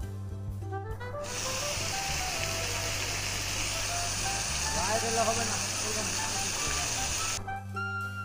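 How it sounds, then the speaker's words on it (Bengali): A waterfall rushes as a steady, loud broadband hiss filling most of the stretch, starting and ending abruptly, with faint music at the edges and no talking. "ঝতে ঝর্ণা।"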